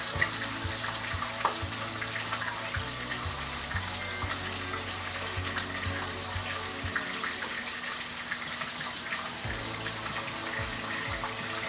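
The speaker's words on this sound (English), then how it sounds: "Let me wash my hands." Hands washed under a running kitchen tap during vegetable quinoa cooking, a continuous broadband rush of water with a low hum underneath, steady and close for the whole stretch, no talk.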